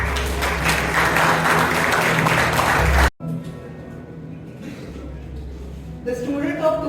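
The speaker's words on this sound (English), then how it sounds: "Give a round of applause to company secretary Siddesh Sati." A round of applause from the audience at a school event honouring a company secretary, dense clapping that cuts off abruptly, followed by quieter room sound and a voice beginning to speak.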